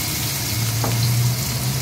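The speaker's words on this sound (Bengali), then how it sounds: "এবার মাছগুলো ভেজে নিই।" Fish fry in hot oil in a pan, giving a steady, loud, close sizzle with a dense crackling hiss throughout.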